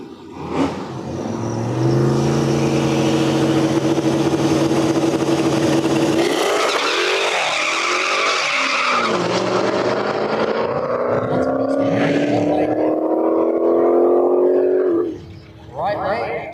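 A hatchback Mustang and an SRT Challenger launch side by side at a no-prep drag strip, engines roaring loud and rising in pitch through the gears, a brief dip mid-run, then a sustained howl that drops off abruptly near the end.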